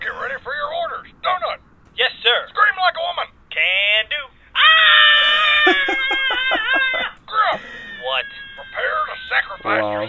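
A man in Red vs Blue Halo machinima lets out a loud, high-pitched falsetto scream imitating a woman, heard as a sustained wavering shriek among other voices talking and shouting.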